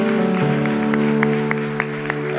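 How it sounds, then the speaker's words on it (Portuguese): A church congregation claps for the Lord in a steady wash of applause, loud and close, layered over sustained keyboard chords. "Você pode dar um forte aplauso ao Senhor."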